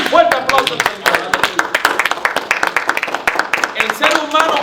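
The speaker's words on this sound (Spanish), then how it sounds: "Dale un fuerte aplauso al Señor" A church congregation applauds with many hands at once, a dense, continuous patter of sharp claps that stays lively and loud from start to finish.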